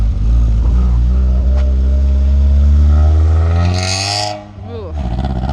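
A Honda CR-V with a welded differential drives and revs loudly up close, its engine drone climbing steadily in pitch before dropping off and picking up again.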